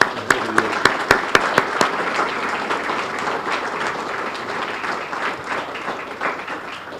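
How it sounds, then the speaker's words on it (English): An audience at a ribbon cutting bursts into applause, a few sharp individual claps at first giving way to steady, fairly loud clapping from the crowd. "I want to give you an opportunity to applaud everyone I introduced"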